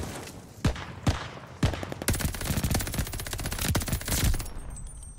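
AS44 assault rifle fire in Call of Duty Vanguard multiplayer: a few separate shots followed by rapid, sustained automatic bursts, close and fairly loud, with no talking.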